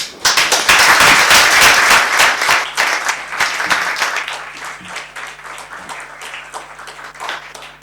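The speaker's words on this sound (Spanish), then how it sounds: "Muchas gracias, un aplauso" At the close of a talk on Mapuche heritage, loud audience applause swells right away, then gradually thins and fades into scattered claps as it tapers off.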